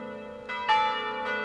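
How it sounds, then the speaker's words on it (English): Church bells ring in a Beirut suburb as mourners dressed in black gather, three loud resonant strikes sounding alone, each one sustaining and overlapping the next. "Church bells rippled through Beirut's suburbs"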